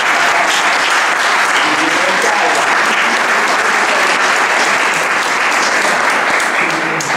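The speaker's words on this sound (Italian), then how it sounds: "io farei un applauso per il Gino" Loud, sustained applause from a large audience welcoming the speaker Gino Roncaglia, a continuous dense roar of clapping with a little crowd murmur mixed in and no single voice standing out.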